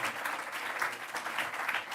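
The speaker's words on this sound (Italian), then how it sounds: "Un applauso per Luigi Buttiglione." A conference audience claps for a speaker returning to his seat, a soft, even wash of applause from a hall, steady throughout with no talk.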